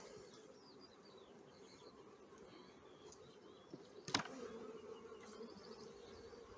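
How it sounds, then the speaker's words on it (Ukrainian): Honeybees fly around polystyrene hives at a large apiary of about ninety hives on an overcast day, giving a faint, steady buzzing drone with occasional soft bird chirps and a brief tap near the middle. "Пасіка воде, бджілки літають активно"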